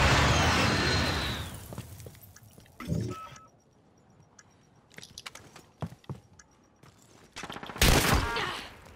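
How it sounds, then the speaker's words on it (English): A precision airstrike and gunfire in a Call of Duty-style first-person shooter during a Search and Destroy match, opening with a loud roaring rush, then scattered sharp shots and a final heavy blast, with no speech. "Be advised, friendly precision airstrike inbound."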